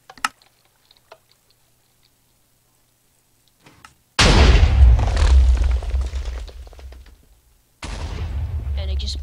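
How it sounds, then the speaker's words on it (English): Video game hybrid cannon blasts erupt as two long, loud explosive roars with crumbling debris, separated by a brief pause after a quiet start with faint clicks. "So this is the regular hybrid cannon."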